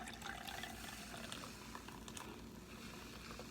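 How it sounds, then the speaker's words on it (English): Freshly blended milk squeezed out through a thin cloth bag, giving a steady close wet trickle and splash of liquid with no talking. "And you squeeze out the milk."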